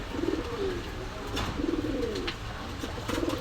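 Kasuri pigeons at a pigeon market give soft, rolling coos in three repeated bursts, close by over a steady murmur of background crowd noise.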